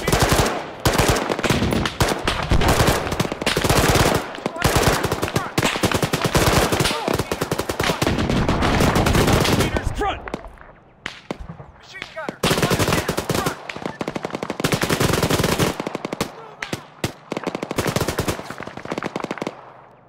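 Machine gun fire in a military video game, loud sustained bursts of rapid automatic shots with brief pauses and scattered single gunshots, with voices shouting over the firing.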